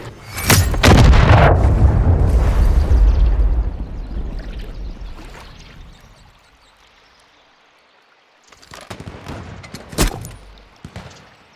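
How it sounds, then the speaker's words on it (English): Cruise missile explosions in Call of Duty: a loud deep blast with a long rolling rumble that decays over several seconds, then a second burst of booms and cracks a few seconds later. "Friendly cruise missile approaching target."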